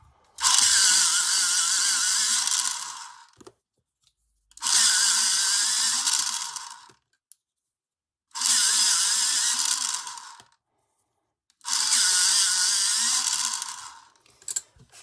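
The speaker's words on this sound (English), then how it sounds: "Plug the sharpener in, that might help." A Sunrise Pro electric pencil sharpener grinds a pencil in four loud, close bursts of about three seconds each, separated by short silences, with a high whirring buzz and no talking.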